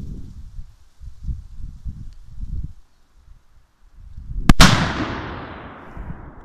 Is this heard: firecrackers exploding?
yes